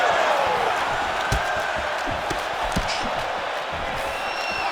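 An arena crowd in the video game UFC 5 keeps up a loud, continuous roar of cheering, with scattered thuds and impacts rising out of it.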